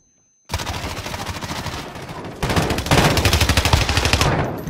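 Sustained automatic gunfire in a video game crackles after a brief silence, growing louder and denser partway through with rapid, evenly spaced bursts close up.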